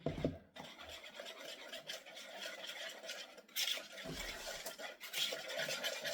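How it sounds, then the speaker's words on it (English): A spoon stirs peach cobbler batter in a bowl, making quiet, repeated rubbing and scraping strokes close by, with a few sharper scrapes against the bowl's side. "You just want to make sure it's nice and mixed."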